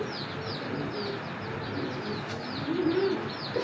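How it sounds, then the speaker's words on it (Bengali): A pair of red-checkered Chuina pigeons with stout beaks give soft, low, rolling coos that run steadily near the microphone, swelling a little toward the end, with faint higher chirps from other birds in the background. "এক জোড়া চুইনা কবুতর"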